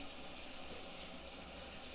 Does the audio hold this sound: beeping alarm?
no